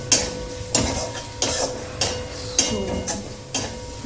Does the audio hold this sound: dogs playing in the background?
no